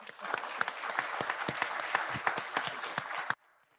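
A university audience applauds special guests at a campus event, dense clapping with sharp individual claps standing out, loud and close for about three seconds before stopping abruptly into near silence.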